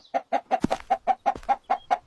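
A rooster clucks in a steady run of about ten short, evenly spaced calls, close and clear, with one brief higher squawk partway through and no talk.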